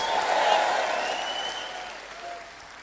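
Audience applause at a church leadership sermon in Papua New Guinea, a broad wash of clapping from a large crowd that swells early, then gradually thins and fades, with voices mixed into the clapping.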